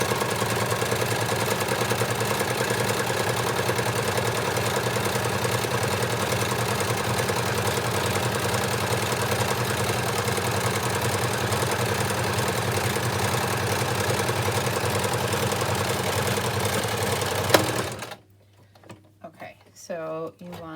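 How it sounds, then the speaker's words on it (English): A sewing machine runs steadily for a long stretch while stitching a fabric scrunchie, a continuous close whirring hum with fine rapid clatter, stopping abruptly near the end before a few quiet handling sounds. "You put it in your machine and get your needle in place."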